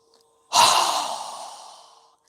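A strong exhale through a wide-open mouth during a yoga breathing exercise: one loud, breathy rush that starts abruptly and fades slowly over about a second and a half, with no one talking.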